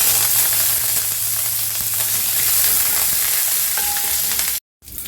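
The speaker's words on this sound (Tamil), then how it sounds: "இதில் ரெண்டு காஞ்சி மிளகாய் போடுறோம் கொஞ்சமாக கருவேப்பிலை சேர்க்குறோம்" Dried red chillies and curry leaves crackle and sizzle steadily in hot oil, a dense close frying hiss with a brief cutout near the end, while watermelon-rind kootu is being cooked.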